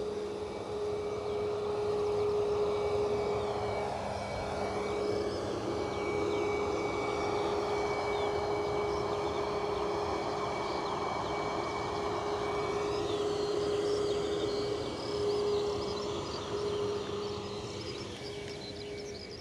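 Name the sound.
Ryanair Boeing 737 jet aircraft at Edinburgh Airport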